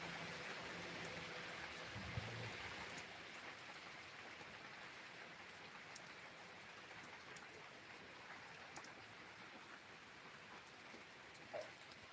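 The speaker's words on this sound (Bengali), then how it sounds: "ভালো জোরে কিন্তু হচ্ছে বৃষ্টিটা আর ঝড়টাও" Heavy rain from Cyclone Remal pours steadily outside with storm wind, forming a dense, continuous wash of sound at an even level, with no voices.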